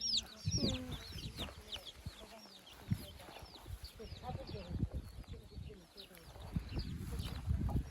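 Chickens cluck and peep around a hen with her chicks feeding in a village yard, a steady busy chorus of short calls close by, with people talking over it throughout.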